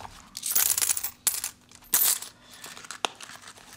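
Coins drop and clink into a wallet's coin pocket in several short bursts of bright metallic jingling, close and fairly clear with quiet gaps between.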